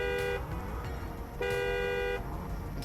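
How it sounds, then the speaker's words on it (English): Truck horn in the SnowRunner video game, sounding two steady honks of about a second each, the second longer, loud and close over a low engine rumble. "This truck doesn't have a very intimidating horn"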